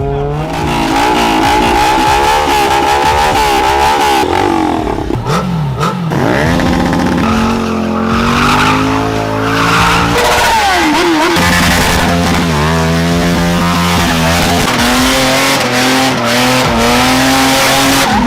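Cars drifting and racing on a city street in Abuja, Nigeria, with loud continuous engine revving and long squealing tire skids sweeping up and down, close and intense throughout.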